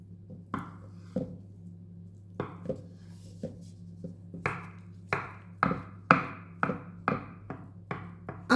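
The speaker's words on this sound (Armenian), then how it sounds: "Ահա, 2 խաշած ձուն էլ կտրատեցինք, մանրացրեցինք" Two boiled eggs are chopped on a board for tuna salad, a series of about fifteen crisp knife chops, irregular at first and then quicker, close and fairly quiet over a low steady hum.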